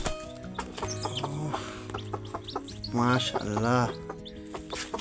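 A broody native black hen sitting on hatching eggs at night gives soft low clucks, followed by two louder, drawn-out calls close by, while a person speaks briefly.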